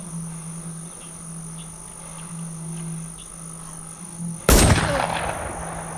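A Mossberg 590 shotgun in the zombie survival game The War Z fires a single loud, sharp blast that decays into a ringing tail, preceded by several seconds of droning insect and cricket ambience.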